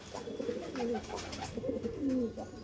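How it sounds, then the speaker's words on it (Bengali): Andhra Kalshira pigeons, a breeding-ready male and female pair, coo softly in repeated low, throaty phrases close by, with no talk over them. "এবার স্ট্যান্ডিংটা পায়রাটা দেখো, দেখুন পুরো রেডি টু ব্রিড পায়রা"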